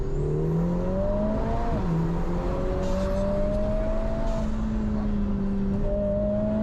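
A Lotus Emira First Edition sports car drives under load, its engine droning steadily as the pitch climbs, dips at a gear change and rises again, loud and constant from the cabin.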